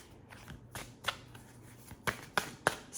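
Tarot cards shuffled and drawn from a deck for a love reading, soft papery riffles building to several sharp, close card snaps and flicks spaced irregularly near the end, quiet and alone.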